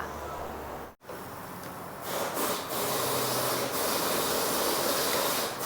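Loud, steady sizzling hiss fills the clip after a brief dip, like batter for Thai coconut cakes (khanom babin) frying in a hot Teflon pan, broadband and continuous.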